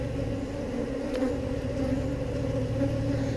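Honeybees swarming around a beekeeper at an open hive in Texas, a dense, steady close-up buzz of many wings droning continuously with a low hum beneath it.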